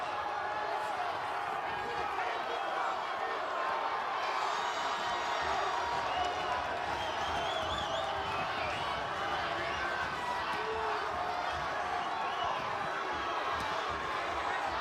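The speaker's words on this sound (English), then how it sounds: "The crowd is into it here at the Fantasy Springs Resort and Casino" Boxing crowd at Fantasy Springs Resort and Casino cheering and whooping in a steady, continuous roar, with a commentator talking over the arena noise throughout.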